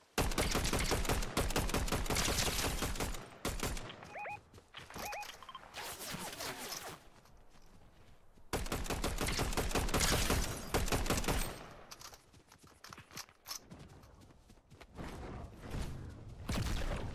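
Gunfire in Fortnite Chapter 6: long, rapid bursts of loud automatic shots in quick rhythmic strings, broken by short pauses and quieter scattered shots, with no talking.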